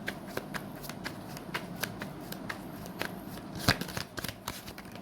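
Tarot cards being shuffled by hand, a steady run of soft riffling flicks and snaps with a few sharper slaps, close and alone with no voice.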